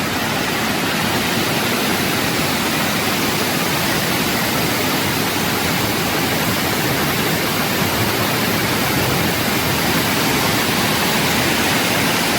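Steady, roaring rush of a waterfall, loud and close, a dense unbroken wash of water noise filling the whole clip.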